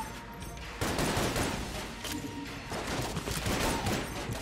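Rapid gunfire in the video game Enter the Gungeon, a dense continuous stream of shots at a high rate, loud and close, with no voices over it.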